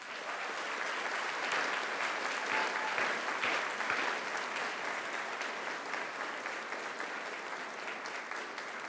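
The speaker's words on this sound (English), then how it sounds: "Can I encourage you to give them an almighty applause?" Graduates at a Macquarie University graduation ceremony applaud their families and friends, a dense, sustained crowd clapping heard at a moderate distance that carries evenly for several seconds.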